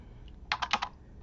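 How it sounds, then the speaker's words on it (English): A burst of four quick, close key clacks from a loose, messy computer keyboard, crisp and isolated against quiet room noise. "I'm working with a different keyboard, and this one's kind of messy for me"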